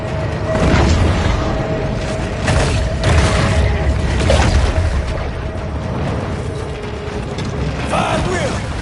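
Torpedo explosions in the video game Maneater sound as repeated deep booms and rumbling blasts over dense mechanical underwater noise, loud and continuous throughout.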